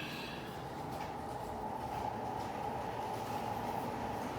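Model trains run on a layout in a steady, continuous rumble of wheels on track, with a faint rhythmic clatter and no break in the sound.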